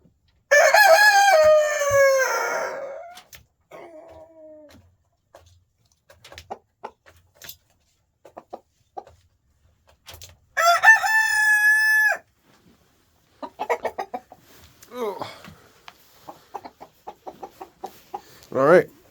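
A rooster with a large comb crows loudly and close, two long drawn-out calls separated by quieter clucks and short sounds, with someone speaking between them.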